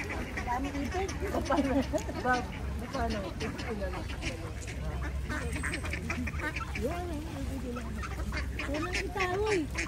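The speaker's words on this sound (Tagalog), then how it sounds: "Ducks." Several ducks quack repeatedly nearby at a lake, mixed with people talking over steady outdoor background noise.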